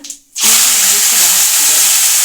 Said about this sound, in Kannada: ಟೊಮೊಟೊನ ಒಗ್ಗರಣೆಗೆ ಹಾಕ್ತಾ ಇದ್ದೀನಿ ಇವಾಗ